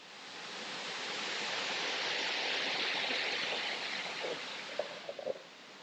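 A waterfall rushes in a steady broad hiss that swells and holds, fairly faint, with a few small knocks near the end.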